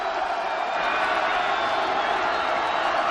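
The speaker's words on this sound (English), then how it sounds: "Crowd making some noise at Paulson Stadium" Steady crowd roar from a packed stands at a college football game at Paulson Stadium, Georgia Southern hosting Old Dominion, a dense continuous wash of voices and faint whoops without a break.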